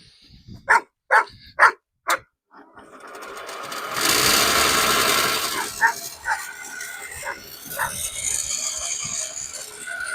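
A benchtop circular saw spins up after a few short sharp knocks, then hums and whirs steadily nearby, with occasional bumps and clicks over the running motor.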